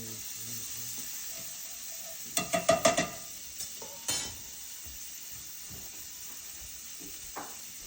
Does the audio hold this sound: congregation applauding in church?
no